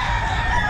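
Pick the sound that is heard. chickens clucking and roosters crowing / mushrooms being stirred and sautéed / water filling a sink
chickens clucking and roosters crowing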